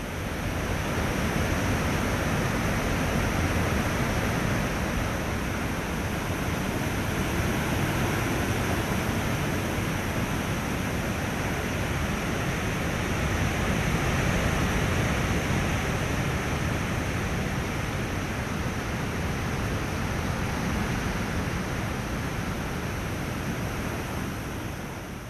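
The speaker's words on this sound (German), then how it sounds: "so gewaltig entlädt es seine Kraft plötzlich in einem tosenden Wasserfall" Roaring waterfall on the Awash river in Ethiopia, a constant, broad, loud rush of falling water that stays steady throughout with no voices.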